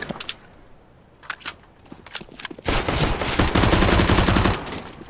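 UMP-45 submachine gun fire in Counter-Strike: Global Offensive on Dust 2, starting with a few scattered shots and then turning into a loud, sustained burst of rapid automatic fire that cuts off near the end.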